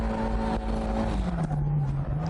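A Toyota AE86 engine revs hard after a downshift during a drift lesson. The close, loud, droning note holds steady and then dips slightly as the car pulls under load.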